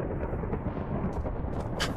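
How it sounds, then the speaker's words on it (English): Thunder rolls in the video game Minecraft as a continuous low rumble that stays fairly loud throughout the brief stretch. "As the thunder rolls, that wasn't ominous at all."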